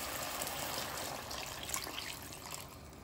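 Water is poured into a pan of chicken kaldereta, making a continuous, close rushing pour with a trickle that tapers slightly toward the end.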